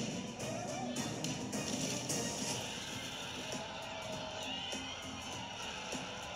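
A crowd of contestants in a MrBeast Squid Game challenge cheering and shouting excitedly, a dense, busy wash of many voices with scattered sharp outbursts, moderately close and continuous.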